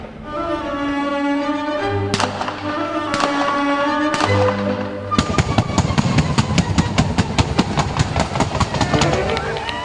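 Fireworks launched for a Sony Bravia television advert at Tory Glen, a loud dense barrage of rapid crackling bursts and pops that swells into a continuous volley after a few seconds, with musical tones running underneath.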